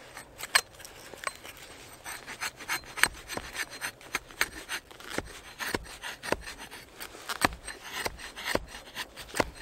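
A camp hawk hatchet carves small shavings from wood, making a steady run of close, sharp scraping and rasping strokes that repeat quickly and unevenly, with no voices.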